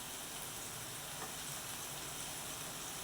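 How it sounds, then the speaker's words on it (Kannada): Turmeric, salt and chili powder frying in a pan for a tomato dish, a steady soft sizzle that stays even and fairly quiet for a few seconds, with no voices. "ಎಲ್ಲವೂ ಚೆನ್ನಾಗಿ ಮಿಕ್ಸ್ ಆಗುವವರೆಗೂ ಫ್ರೈ ಮಾಡ್ಕೊಳ್ಬೇಕು."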